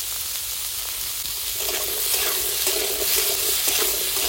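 Potatoes and green papaya fry in a pan with salt and turmeric, making a loud, steady hiss that swells as stirring begins, with soft scrapes of the spoon against the pan.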